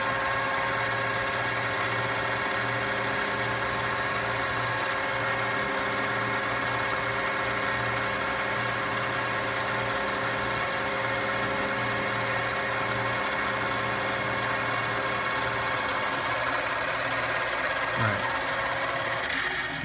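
A metal lathe runs steadily while cutting a part, a continuous mechanical hum with a faint whine and light vibration, close and unbroken, with no talking.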